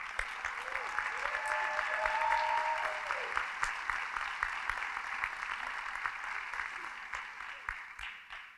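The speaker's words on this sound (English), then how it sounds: "after you clap for them" An audience applauds steadily at a fire department awards and recognition ceremony. The clapping sounds somewhat distant and soft, holds even for several seconds, then thins out toward the end.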